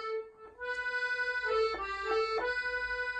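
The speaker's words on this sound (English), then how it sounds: "So there are lots of different sounds that you can get playing the accordion." Accordion played very quietly with gentle bellows pressure, sustained reedy chords shifting through a few soft changes, alone and close with no talking.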